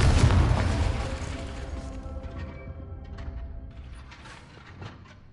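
Confringo blasting spell explosion in Hogwarts Legacy, a loud booming burst at the start that decays into rumbling debris and scattered mechanical clanks and pops.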